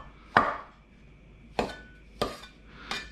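A knife cuts white button mushrooms into bite-sized wedges on a board, giving four sharp, separate chops spaced unevenly over a few seconds.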